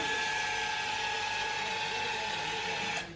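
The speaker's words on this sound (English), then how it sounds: "showing you how loud this damn fuel pump on this bike" Fuel pump on a 2020 Honda Grom motorcycle with a FuelTech FT450 setup, a loud, steady high-pitched whine running close up for about three seconds before it cuts off abruptly.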